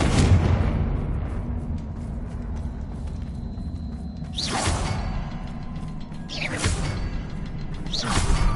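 Casting the Confringo spell in the Hogwarts Legacy video game: a swooshing fiery burst followed by a couple more whooshing blasts, loud over a rumbling mechanical game ambience.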